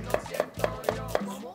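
A knife julienning onion on a cutting board: five crisp, evenly spaced chops about a quarter second apart, close and clear, with no talking.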